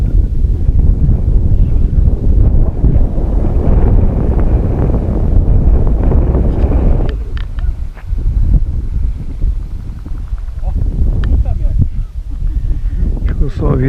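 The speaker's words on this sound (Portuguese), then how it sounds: "O vento tá ventando demais aqui, pessoal." Strong wind buffeting the microphone outdoors during a flight of an FW200 model helicopter, a loud continuous roar that eases after the midpoint, with gusty rumbling throughout.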